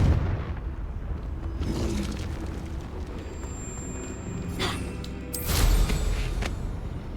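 A Confringo fire spell explodes in Hogwarts Legacy, a few bursts and booms with crackling blasts, the loudest near the end, alone without talk.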